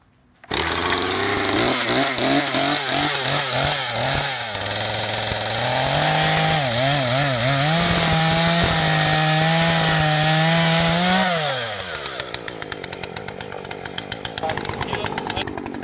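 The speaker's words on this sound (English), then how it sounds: "So time to fire up the chainsaw, I reckon." A chainsaw cuts wood to make a raised bed, its engine holding a loud, steady snarl for about twelve seconds with rising and falling pitch, then dropping to a rough, sputtering idle.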